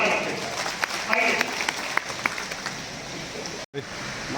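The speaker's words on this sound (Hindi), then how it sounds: "जोरदार तालियों के साथ आइए" Audience applause at a pensioners' society annual convention and honours ceremony, a steady dense wash of clapping running throughout with a voice speaking over it, cut by a brief dropout near the end.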